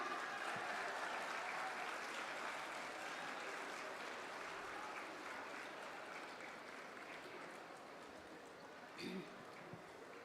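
An audience at the Sparsh Himalaya festival claps for Kailash Kher's arrival, with faint, distant, continuous applause that slowly thins, plus a brief louder bump near the end.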